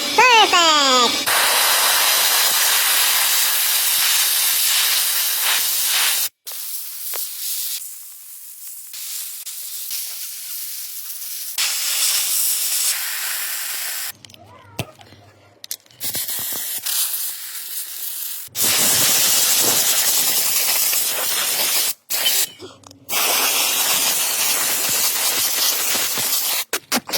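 Aerosol brake cleaner sprayed on a car with rust, long loud hissing blasts close by, broken by short gaps and quieter stretches, with brief chatter between bursts.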